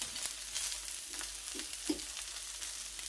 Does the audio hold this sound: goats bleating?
no